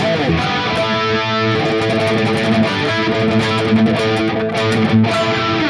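High-gain electric guitar played through a Sonicake Matribox II Pro with chorus added, a dense, sustained distorted chord texture with a shimmering modulation, loud and continuous with no talking.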